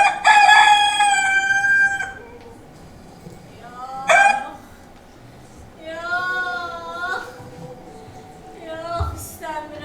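A rooster crows in an Azerbaijani stage play of Rasputin's drama, loud and near, in several drawn-out calls across the stretch with short pauses between them.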